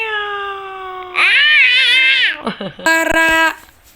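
A human voice imitates a cat's meow with a few loud, drawn-out, wavering meows, then a shorter one close to the microphone.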